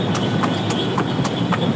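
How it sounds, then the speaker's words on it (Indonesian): Horse hooves clip-clop in a steady, regular rhythm of about four beats a second, moderately close and fairly loud over a constant background hiss. "kuda."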